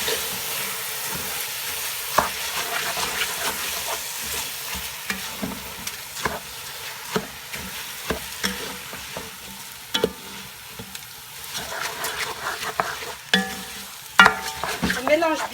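Drained rice and vegetables with spices stirred in a pan for a pilau, a spoon scraping and clacking in an uneven rhythm over a steady soft sizzle, close and alone without talk.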